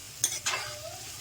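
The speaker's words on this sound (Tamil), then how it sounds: "நல்லா வதக்கிட்டோம்." Vegetables, onions and beans being sautéed in oil in a pan for vegetable upma, with two short stirring scrapes over a faint, steady sizzle.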